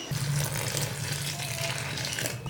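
Hot water is poured gradually into chickpea flour dough in a home kitchen, making a steady, close trickle and splash for a few seconds with no talking.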